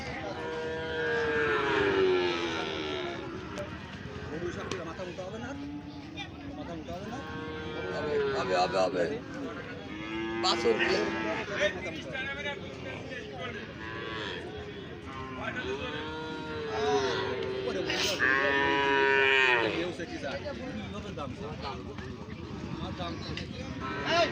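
Cows at a crowded cattle market give a string of drawn-out moos every few seconds, loud and fairly close, mixed with constant background chatter and people talking.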